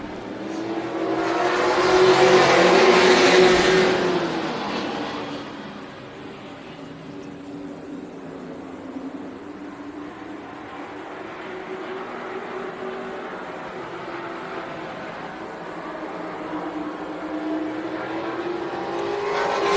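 Legends race cars roar around Tucson Speedway during a night race start, a loud engine swell passing early then a sustained distant drone of the pack running two and three wide.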